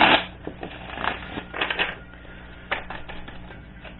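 Oracle cards being shuffled by hand, a series of soft papery riffles and taps in irregular bursts, close and quiet, with no talk.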